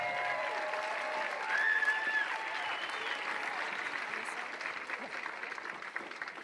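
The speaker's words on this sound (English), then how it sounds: "Another round of applause for the runner-ups." A crowd applauds the runner-up team at a pickleball championship final, with sustained, even clapping throughout and a host's voice over it.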